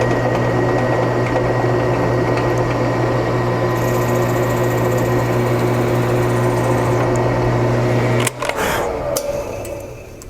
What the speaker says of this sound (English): So I've got a 1/4-inch brad point drill.